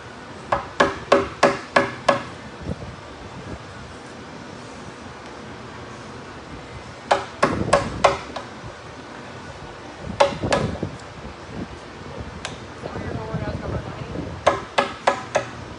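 Sharp hammer blows on a chisel in wood, quick bursts of four or five strikes separated by pauses, close and loud.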